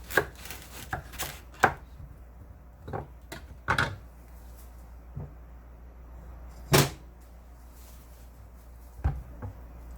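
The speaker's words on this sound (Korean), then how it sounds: "반 잘란 수박을 또 반으로 잘라주세요" A knife cuts through a halved watermelon on a board in a home kitchen, giving scattered sharp thuds and chops with quiet gaps between them and no voices.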